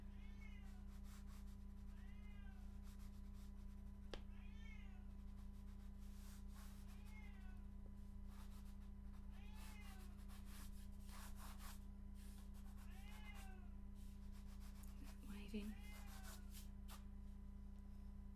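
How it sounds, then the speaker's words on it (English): A cat meows several times at a distance, soft and intermittent, over a steady low hum and faint rubbing noises. "I can hear a cat too."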